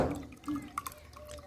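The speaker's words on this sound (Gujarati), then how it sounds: "પાણી હવે આ પેસ્ટ પાણી નાખી દઈ" Water poured into pani puri paste, a short close trickle with a few distinct drips and splashes, brief and fairly quiet.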